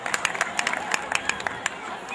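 Applause from the audience at Çamlıpınar village's 7th harvest festival: a sparse scatter of close, sharp hand claps with crowd murmur underneath, lasting a couple of seconds.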